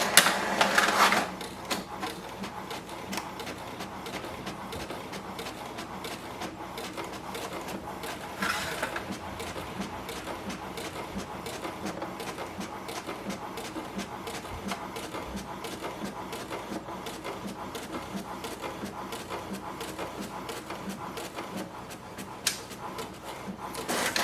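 An HP DeskJet 2955 inkjet printer prints a page with a quiet, steady mechanical whir and rapid ticking, broken by a few louder clunks near the start and midway, with no voices.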